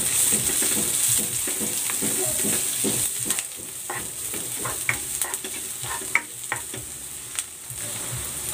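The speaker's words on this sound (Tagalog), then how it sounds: "Igigisa ko na tong bawang." Garlic and onion sauté in hot oil for patola soup with tofu and egg, a steady loud sizzle broken by repeated scraping stirs and clinks, the frying noise easing slightly partway through.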